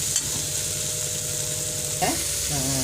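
Okra curry ingredients sautéing in a pan, a steady close sizzle with a couple of brief stirring scrapes and a faint hum underneath.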